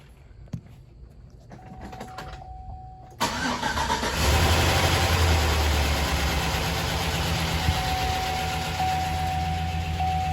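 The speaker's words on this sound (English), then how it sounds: "I'll let you hear the engine." After a quiet stretch with faint clicks, a 2006 Chevy Silverado pickup engine cranks and catches after an oil change, then settles into a steady, fairly loud idle with a low rumble.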